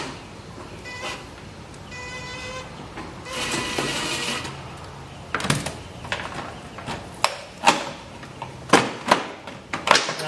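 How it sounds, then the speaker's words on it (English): A screw is worked out of a golf cart dashboard with a hand tool: faint ratcheting and scraping, then a series of sharper clicks and knocks toward the end, close up with no talking. "we're going to remove this screw"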